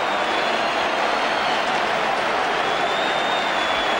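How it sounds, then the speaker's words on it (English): Cricket crowd at a 1980 Australia versus New Zealand one-day match, a loud sustained wash of crowd noise with booing, steady and unbroken throughout. "the crowd boo"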